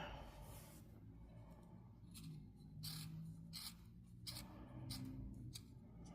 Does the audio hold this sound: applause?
no